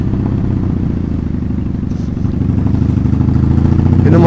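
A 1984 Honda Magna 750cc V-twin motorcycle engine revs hard right after starting, a loud, close, rough throbbing with clattery mechanical texture that builds slightly toward the end.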